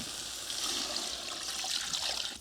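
Water pours into a pot of stir-fried cow hooves, a continuous splashing, trickling stream close by that runs steadily for a couple of seconds with no talking.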